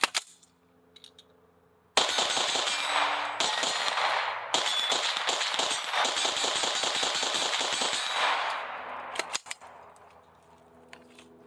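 A New Frontier Armory C5 rifle fires a full magazine at a shooting range: a fast run of loud, sharp reports with brief pauses for several seconds, then a few last shots and quiet.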